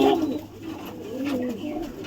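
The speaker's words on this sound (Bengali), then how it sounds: "আমি একটা পায়রা নিয়ে আছি" A pigeon coos softly and close by, held by hand during wing care, with low rolling coo phrases over a quiet background.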